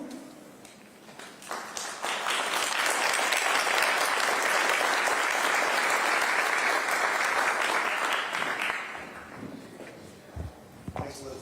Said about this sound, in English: I want to ask all the executive committee members to stand for a round of applause